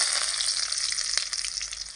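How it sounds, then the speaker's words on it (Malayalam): Shallots and mustard seeds fry over a high flame in hot oil for a cowpea roast, giving a steady, close sizzle peppered with sharp crackles and spits. "കൊച്ചുള്ളി ഇട്ട് കടുക് പൊട്ടിക്കുക"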